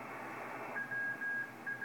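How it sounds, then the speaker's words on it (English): A Morse code CW signal comes through on the 40 meter band of a Kenwood TS-430S HF transceiver that has intermittent low receive sensitivity. The tone is a steady on-off keying of short and long beeps, faint over a hiss of band noise. "We're listening to some Morse code, some CW"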